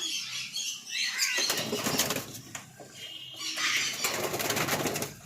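Pigeons in a loft beat their wings in loud, close flurries of flapping, with a brief lull between two bursts and a faint coo.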